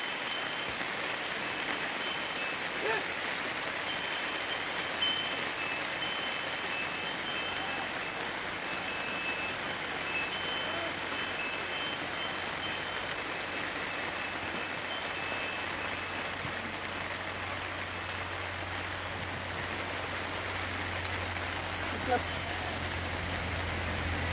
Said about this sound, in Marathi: आणि हे बघा पाऊस चालू झालाय